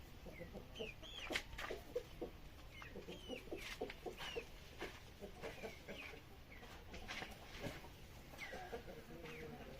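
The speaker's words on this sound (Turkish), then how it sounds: "rahatsız olan tavuğumuz bu" A sick chicken and other chickens clucking and murmuring nearby, steady soft calls scattered throughout, with faint background noise and no talking.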